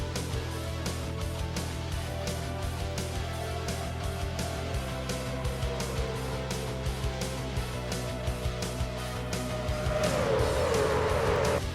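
Race cars rolling to the green flag at Chicagoland in a racing video game, a steady dense drone of many engines close together, swelling louder and brighter near the end as the pack accelerates.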